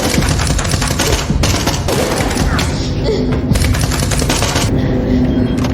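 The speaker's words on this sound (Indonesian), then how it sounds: "baku tembak pun tidak bisa dihindari" Loud, close gunfire from a film shootout fills the whole stretch, with dense rapid bursts of shots and heavy thuds, some shots louder than others.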